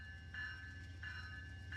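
A P42 locomotive runs in a train simulator game: a faint, low engine drone under repeating tonal whines that rise and fall in short pulses.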